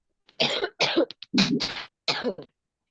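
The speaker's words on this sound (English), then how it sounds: "My goodness, who is having a terrible cough?" A run of harsh, throaty coughs in quick succession during a class, close up, with brief gaps between them.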